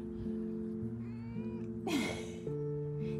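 A lone kitten meows several times, close and clear, with rising and falling cries during an outdoor walk in Paris.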